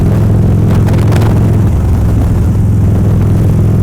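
A Harley-Davidson motorcycle engine pulls from about 45 to 75 in 5th gear, a loud, continuous low rumble with heavy wind roar and no pauses.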